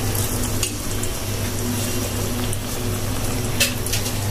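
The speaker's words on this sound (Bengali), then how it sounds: "সো এইভাবে আমি সবগুলো ভেজে তুলবো" Teler pitha, Bangladeshi rice-flour cakes, deep-frying in hot oil, a loud steady close sizzle with bubbling and occasional scrapes of a utensil against the pan.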